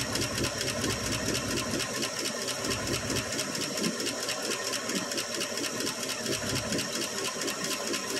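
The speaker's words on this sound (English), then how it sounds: "you can tell by all the lifter noise" A 1965 Ford Fairlane 500's 289 V8 idles steadily up close after sitting three years, with a fast, busy lifter-noise ticking clatter running through it the whole time.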